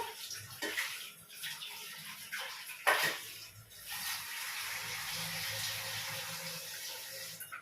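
Water poured into a pot of lentils and greens: splashy bursts at first, then a steady, close gushing stream that runs to the end.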